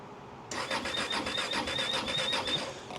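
A KTM motorcycle engine cranking over in freezing cold, the starter churning in a fast, steady rhythm with a whining tone, loud and close, running without catching for a few seconds.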